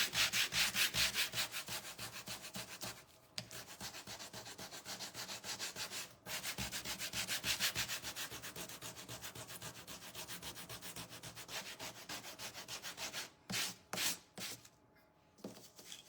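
A green grit sander rubs steadily and aggressively across wood for a chippy finish, a continuous close rasping with brief pauses and a few short bursts near the end.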